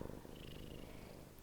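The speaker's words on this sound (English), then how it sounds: "you can probably hear the purring" A cat purrs close up, a soft continuous rumbling drone with a steady rhythmic pulse.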